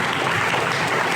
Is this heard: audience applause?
yes